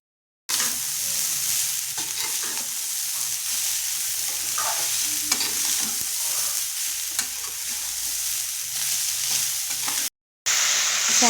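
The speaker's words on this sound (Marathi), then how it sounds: "हे चांगले परतून घेऊया." Grated coconut and sugar sizzle steadily in a hot pan while being stirred, a continuous bright frying hiss with soft scraping strokes, close and fairly loud, with a brief gap near the end.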